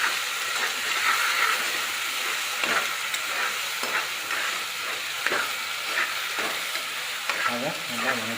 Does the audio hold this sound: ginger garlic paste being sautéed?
yes